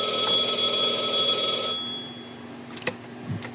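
A phone rings in the game Blue Archive, with a steady electronic ringing tone that holds for under two seconds, then stops, leaving faint quiet background and a few soft clicks.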